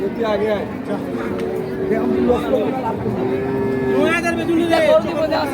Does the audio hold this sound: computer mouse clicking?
no